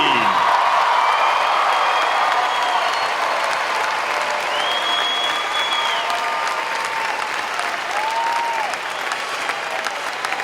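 A crowd at a 2016 high school graduation commencement gives the graduating class a big round of applause, a continuous loud wash of clapping with faint cheering and whistles over a large hall.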